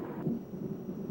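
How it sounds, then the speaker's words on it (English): Thunder rumbles in a low, continuous roll for about a second, fairly faint and without a sharp crack. There is no talking. "that rapid expansion of air makes a sound, a loud noise, which we call thunder."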